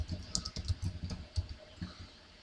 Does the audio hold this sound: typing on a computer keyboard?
yes